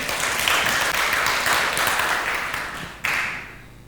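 Congregation clapping during a church sermon, a continuous dense burst of applause that swells and eases, with a sharp renewed flurry near the end before tapering off.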